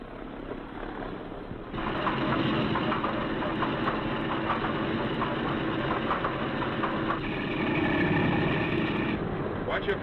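A B-17 Flying Fortress's number 2 radial engine starts up, a steady loud roar rising abruptly after a quieter hum and continuing with a rough, throbbing rumble close by.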